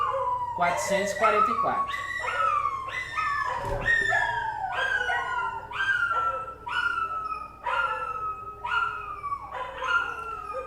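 A pet dog howls repeatedly in a long, wavering series of rising and falling cries, loud and close indoors, with a brief spoken word partway through.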